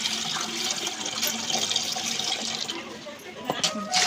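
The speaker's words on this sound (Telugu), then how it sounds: "నీళ్ళు సరిపడా పోసుకోవాలి ఫ్రెండ్స్." Water is poured into a pot for Telangana-Andhra style country chicken biryani, a steady splashing, running pour lasting throughout at moderate loudness.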